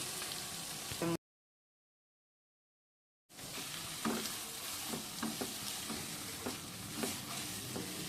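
Ivy gourd, onion and chilli curry fries in a pan over medium flame, a steady close sizzle with repeated scraping stir strokes, cut by a short stretch of total silence before the frying resumes.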